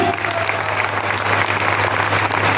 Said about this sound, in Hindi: डीएक्शन के लिए जबरदस्त ताली